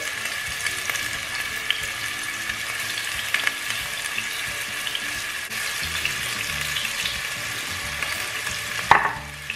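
Beef browning in a hot pan for a stew, giving a steady close sizzle and crackle with occasional stirring scrapes, and a brief clatter near the end.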